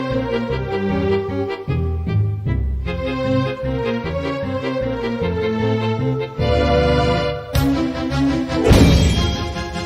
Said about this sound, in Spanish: Cristales rotos, tensión con los violines.